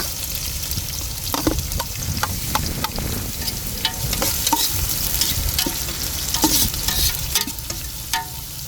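Onion leeks sautéing in a hot pan: a steady, close sizzle of frying with repeated scraping and stirring clicks throughout, no talking.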